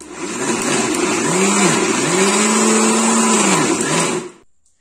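A loud mixer grinder whirs continuously, grinding peanuts into peanut butter, its motor pitch wavering, then stops sharply at the end.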